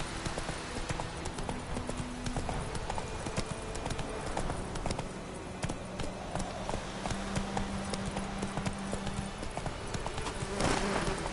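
Steady clip-clop of Roach's hooves in Witcher 3 as the horse trots along, a continuous rhythmic clatter that runs the whole stretch with a brief whinny-like flourish near the end and no talking.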